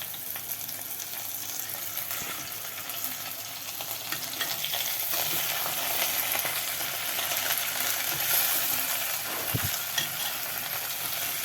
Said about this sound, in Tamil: இப்போ இந்த கீரை வந்து கொஞ்சமாக சுருங்கினதும் இன்னும் கொஞ்சம் கீரையை எடுத்து வச்சு வதக்கணும்